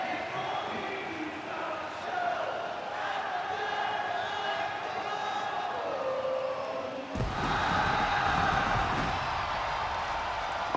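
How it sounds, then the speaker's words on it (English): Crowd noise in the wrestling video game WWE 2K25 during a Cody Rhodes ring entrance: a steady arena roar that swells and gets louder partway through as the crowd joins in, with no talk over it. "Crowd joining in there."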